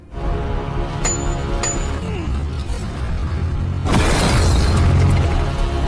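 Tank gunfire in an animated battle between German Panther and Tiger tanks and a Soviet T-34 in a quiet village at night: a couple of sharp cracks early on, then a heavy booming blast with rumble that lingers.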